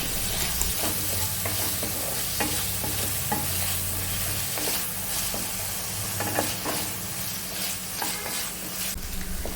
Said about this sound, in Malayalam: അതും ഒന്ന് നന്നായിട്ട് വഴറ്റിയെടുക്കാം.